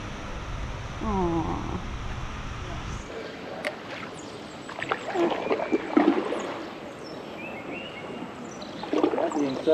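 A boat is paddled through a man-made swamp with soft, intermittent water swishes and splashes, close by, under scattered speech and a few brief animal-like calls.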